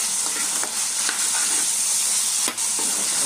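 Broiler chicken frying in a covered pan gives off a steady loud sizzle and hiss of steam, broken by a few soft stirring knocks, with no voices.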